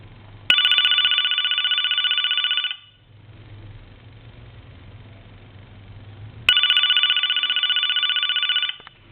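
An AT&T QCP-31 speakerphone rings in two loud electronic bursts of about two seconds each, separated by a quiet pause, close to the listener with no talk.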